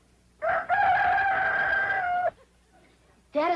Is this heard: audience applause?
no